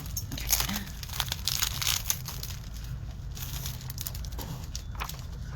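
A sheet of paper is handled up close, crinkling and rustling continuously with sharper crumpling bursts, loud and steady, with no talking.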